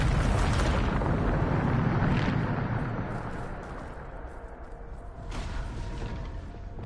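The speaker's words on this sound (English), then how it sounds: "Bombarda!" A Bombarda spell explodes in the Hogwarts Legacy video game, a heavy, rumbling blast that decays over several seconds, followed by a second, smaller burst and a lingering roar.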